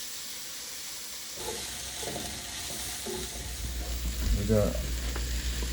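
Onions sweat in a pot with a soft, steady sizzle under light stirring and clinks. A voice speaks briefly over the frying.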